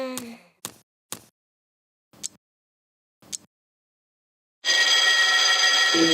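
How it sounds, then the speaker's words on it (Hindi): A morning alarm rings in a kids' cartoon, opening with a few short, separate beeping bursts spaced apart, then a loud continuous ringing that fills the end. "बंद करना ये अलार्म"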